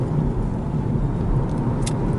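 An electric Peugeot 208 accelerates toward 80 km/h, heard from inside as a steady low road and tyre rumble with a faint whine, no talking.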